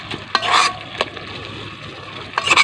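Banana heart and century tuna being stirred in a pan, with a few sharp scraping strokes near the start and end over a low, steady sizzle in between.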